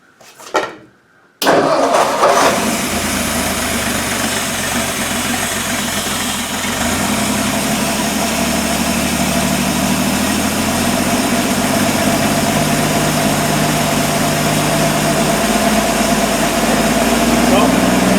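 A 1959 Ford F250 engine cranks briefly, then catches and settles into a loud, steady, rumbling idle that runs on unbroken close to the microphone.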